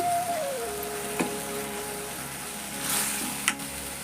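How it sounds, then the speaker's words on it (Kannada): Chalorikai curry bubbling in a pan as it comes to the boil, a soft low simmering hiss with a couple of faint clinks and a brief tonal whine at the start, no voices. "ನೋಡ್ರಿ ಇದು ಕುದಿಯಾಕತ್ತೈತಿ ಎಲ್ಲ ಕುದ್ದೈತ್ರಿ"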